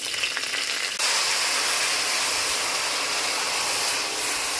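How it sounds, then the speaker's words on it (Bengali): Panch phoron spices crackle and sizzle in hot oil in a kadai, a dense steady frying hiss that jumps louder after the first second as the spices hit the pan, close and without speech. "ফোড়ন দেওয়ার জন্য পরে তেল দেওয়া হলো। এরপর কি পাঁচ ফোড়ন গেল।"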